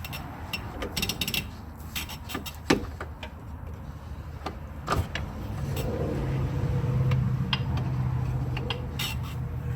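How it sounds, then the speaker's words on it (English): Prying a Dodge Grand Caravan lower control arm out of its subframe cradle with a pry bar: repeated near metallic clanks and creaks, with a sustained groaning strain building toward the end, no talk. "what I like to do is pry the other side of the A-arm out of the cradle"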